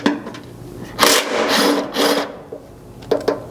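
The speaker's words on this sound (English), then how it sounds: "You can then grab a 12mm socket or wrench to pull the one bolt holding this in place." A 12mm socket or wrench working the single bolt on the slider mounting bracket of a 3rd gen Toyota Tundra frame: loud, close rasping ratchet strokes in a couple of long pulls, then a few short clicks.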